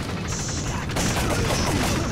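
Rapid gunfire from the Time Crisis arcade shooting game, a dense continuous fusillade of shots with a louder burst about halfway through, heard alongside game effects.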